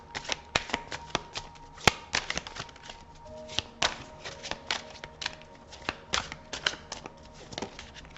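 A deck of mirror oracle cards being shuffled by hand, a quiet, close run of rapid papery riffles and taps in irregular bursts.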